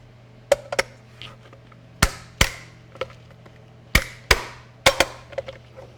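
Sharp, close knocks and taps of metal and polymer parts as the butt pad is fitted back onto a PTR91 HK G3-pattern rifle, arriving in pairs and small clusters with quiet gaps between.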